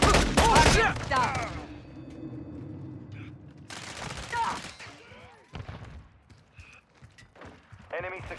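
Call of Duty multiplayer firefight with a loud burst of gunfire up front, then scattered shots and game chatter in the background, with voices talking over parts of it.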